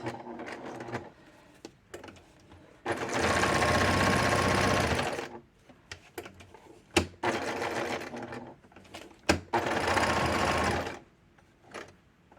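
A sewing machine runs in two rapid stitching bursts, close and loud, separated by quieter clicks and handling noises.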